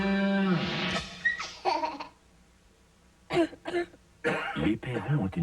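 Harsh coughing and throat clearing from a family with a nasty cough, heard in a French cough syrup television advert: several rough, close bursts in two clusters, with a quiet gap between them and some vocal noise.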